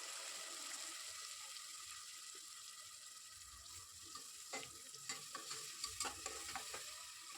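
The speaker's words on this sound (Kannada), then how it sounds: "ಹಸಿ ಸ್ಮೆಲ್ ಹೋಗೋವರೆಗೂ ಚೆನ್ನಾಗಿ ಫ್ರೈ ಮಾಡ್ಕೊಳ್ಳೋಣ." Mutton masala with ginger garlic paste frying in a pan for a village-style mutton sambar, a steady broadband sizzle with scraping stir strokes and clinks growing more frequent toward the end, no voices.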